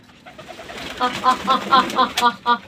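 Pigeons drinking water on a rainy-season day coo in a run of close, rhythmic pulses that grow louder after a quiet start.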